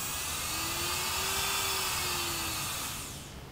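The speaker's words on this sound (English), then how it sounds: "And it's actually not a bad sound for a Dremel either." A Worx MakerX hobbyist rotary tool of the Dremel type runs at speed, making a close, steady high-pitched whine that holds throughout and eases slightly in level near the end.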